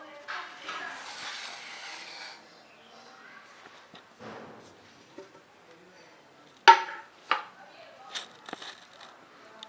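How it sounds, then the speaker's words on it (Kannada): A knife is run around the sides of a cake pan to loosen a freshly baked vanilla sponge cake, giving soft, quiet scraping strokes followed by a few sharper metallic taps and scrapes. "ಸೈಡಿಂದ ಚಾಕು ಹಾಕಿ ಸ್ವಲ್ಪ ತೆಗೆಯೋಣ, ಈಸಿಯಾಗಿ ಬರುತ್ತೆ ಕೇಕ್"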